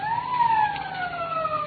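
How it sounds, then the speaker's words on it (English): A police siren wails steadily in a radio drama, a single rising-and-falling tone with a faint overtone, heard alone at moderate distance as if approaching and stopping outside a house. "Police siren."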